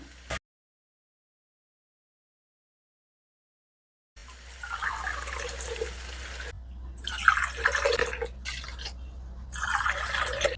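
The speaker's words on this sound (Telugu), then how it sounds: "ఇదే కప్తో వాటర్ కూడా నేను వేసేస్తున్నాను" After a near-silent stretch, water splashes from a cup into a cooking pot for prawn biryani in several separate pours, with brief gaps between each one, heard close up.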